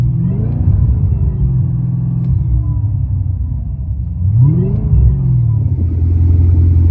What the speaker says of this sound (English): So at idle, I have an Extreme Online Stores exhaust that they actually sponsored for me.